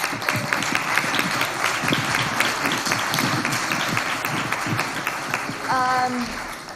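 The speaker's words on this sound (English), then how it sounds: "I want to give a round of applause to all of our great panelists." Applause from the audience at a neighborhood planning public forum, a moderate round of clapping for the panelists that fades near the end as a voice briefly comes in.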